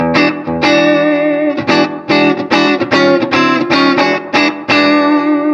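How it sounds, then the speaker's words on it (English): A distorted electric guitar strums a dominant ninth chord in rhythmic bursts, with short choppy stabs and brief gaps, loud and alone. "a standard 9 chord added in with that 7th, dominant 7th would sound like this"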